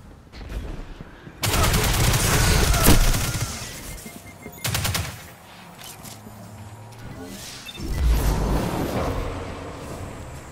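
Rapid gunfire bursts from a Warlock Control video game match, loud and dense automatic fire in several long volleys separated by brief lulls, with shorter shots and game effects between them.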